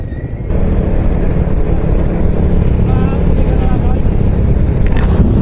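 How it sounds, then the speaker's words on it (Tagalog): Road traffic in Bagabag held up by a passing motorcade, a steady close engine rumble of vehicles with continuous idling and rolling noise throughout, and people talking over it. "may nagmo-motorcade kaya pala medyo traffic"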